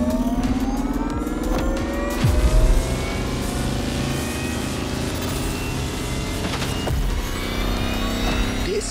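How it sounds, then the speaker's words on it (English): Lamborghini Terzo Millennio electric concept car driving in The Crew Motorfest racing game, giving a steady, rising electric whine with layered tonal hum, continuous and close throughout, no voices. "they are actually giving us a Lamborghini Terzo Millennio?"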